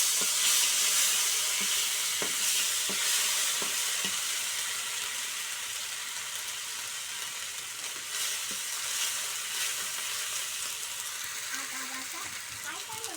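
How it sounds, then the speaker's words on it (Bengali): A paste of onion, garlic, chili and ginger frying in hot oil gives a steady, loud, hissing sizzle that runs throughout, with occasional stirring taps and a voice speaking in the background. "এখন এই যে তেলের পর দিয়ে দেব হচ্ছে পেঁয়াজ বাটা, রসুন বাটা, আর হচ্ছে মরিচ বাটা, সঙ্গে হচ্ছে আদা বাটা"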